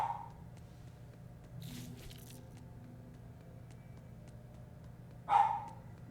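A dog in the room barks twice, a short bark early and a louder, sharper one near the end, over a quiet low hum from a game recording.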